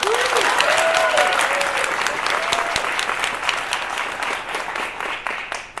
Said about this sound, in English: Can we have another round of applause for Natalie and Emma?